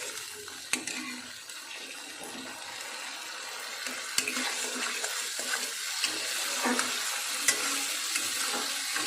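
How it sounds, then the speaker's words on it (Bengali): Spices fry gently in oil on low to medium heat while cooking a potato dum dish, giving a soft, continuous sizzle with a few light clinks and stirring scrapes, close by and without talking. "মশলা ভাজার সময় লো টু মিডিয়াম আছে"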